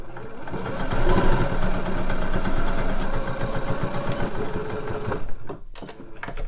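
A sewing machine stitches soles onto fabric slippers, its motor running in a close, steady whirring stitch rhythm for several seconds before stopping.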